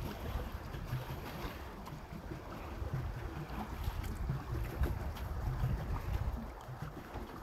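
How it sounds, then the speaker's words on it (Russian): A small boat cruises on the Adriatic Sea off Croatia, giving a continuous broadband wash of water and wind around the hull, steady and moderately distant with no talking. "И поплыли мы по морю."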